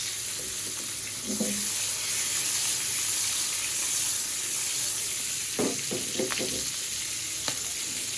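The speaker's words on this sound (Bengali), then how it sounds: "মাছ ভাজা তো মনে হয় হয়ে গেছে" Fish sizzles steadily as it fries in a pan, a loud continuous crackle with scraping stirring strokes in the second half.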